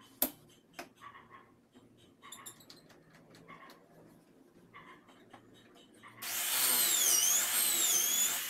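A power drill bores holes in wood or melamine board. Quiet handling clicks and taps come first, then a loud, steady whining drill run starts near the end and continues to the close with no talking.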